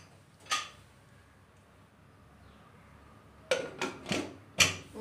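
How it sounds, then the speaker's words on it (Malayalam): A pressure cooker lid being put on and closed over a pot of cashew nut beef biryani: one metallic clank, then after a quiet stretch a quick run of four close, sharp clanks and clatters. "ഇനി കുക്കർ ഒന്ന് മൂടി"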